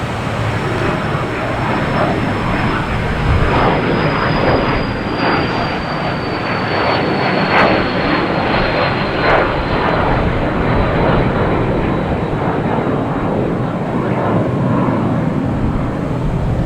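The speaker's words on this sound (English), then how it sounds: "what's this taking off now? We have a Delta 5855 E175 heading to LaGuardia." Delta Embraer E175 jet taking off at Boston Logan Airport, a steady loud engine roar with a faint high whine that holds throughout, no talk heard.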